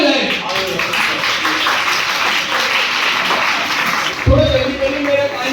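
Loud, dense applause from a seminar audience as two student volunteers are welcomed, running steadily throughout before a voice cuts in near the end.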